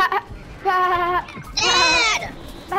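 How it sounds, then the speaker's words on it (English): Goat bleating in Plants vs Zombies Garden Warfare 2, two or three loud, close, quavering bleats in quick succession, the last one longest and highest, with brief gaps of game noise between. "You got turned into a goat by a rose."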